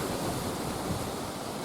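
Constant wind roaring and rushing past the microphone in a Belfast garden, a steady broad hiss with no other sounds, moderately loud.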